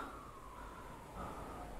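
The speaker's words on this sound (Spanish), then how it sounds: "Hay una ambulancia por aquí, ¿eh?" An ambulance siren wails in the survival video game The Forest, faint and distant, with a steady tone holding briefly before rising again.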